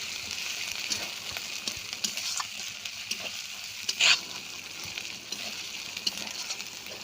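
Garlic paste is sautéed in a pan, giving a faint, steady sizzle with soft scrapes of a stirring utensil and one brief louder clink near the middle.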